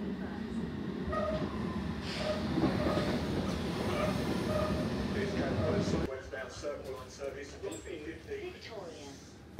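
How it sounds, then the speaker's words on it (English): A London Underground District line train rumbles and rattles steadily along the tracks, loud and close, then the noise eases as it slows. "riding the District line to Earl's Court"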